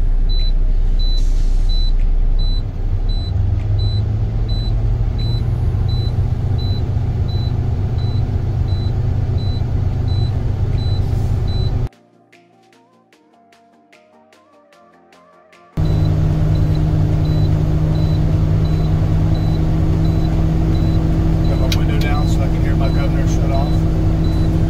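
A modern semi truck's diesel engine idles steadily with a deep low rumble while building air tank pressure, continuing for long stretches with a brief break in the middle; a voice talks over it at times.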